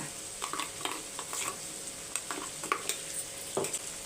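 Onions sauté in a pan with a soft, even sizzle close by, and a spatula scrapes and stirs in scattered light strokes, all without talk.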